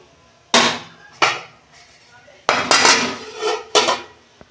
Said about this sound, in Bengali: ঢাকনা খুলছি।